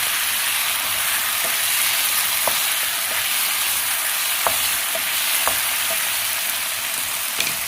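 Marinated chicken coated in mustard paste, soy sauce and salt fries in a pan with a steady, bright sizzle, broken by a few faint clicks of stirring, and no voices.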